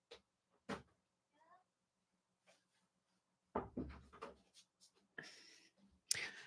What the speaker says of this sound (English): Hold on, my cat wants out the room.